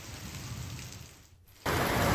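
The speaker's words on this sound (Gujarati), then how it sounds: "ધારી ગીરના ગ્રામ્ય વિસ્તારોમાં ભારે પવન સાથે ધોધમાર વરસાદ પડ્યો" Heavy rain with strong wind pours over villages in the Dhari Gir area of Amreli, Gujarat, a dense steady hiss that drops briefly, then returns louder and fuller.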